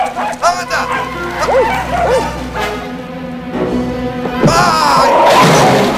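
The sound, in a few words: small dogs barking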